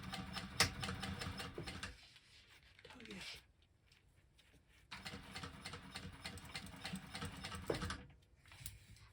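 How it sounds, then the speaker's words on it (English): A sewing machine top stitches an eighth-inch line along a zipper panel, running in steady rapid bursts with a pause in the middle while someone talks. "And then we're going to do like an 1/8 of an inch top stitch on this."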